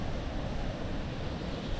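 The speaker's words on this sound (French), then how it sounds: "Il y avait pas mal de vent aussi." Strong wind on an exposed beach in Palawan, loud gusts buffeting the microphone over a steady roar of surf, with no voices.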